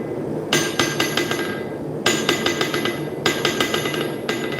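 Sharp hammer blows strike a Triton anvil, each hit leaving a bright, ringing metallic tone. The strikes come in rhythmic groups of three or four, loud and close.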